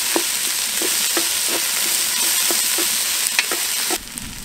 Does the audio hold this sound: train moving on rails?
no